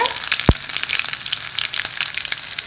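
Mustard seeds and finely chopped small onions fry in hot oil for a street-cart style water chutney, giving a steady close crackling sizzle with a dull thud near the start and no talking.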